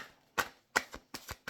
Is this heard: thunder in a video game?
no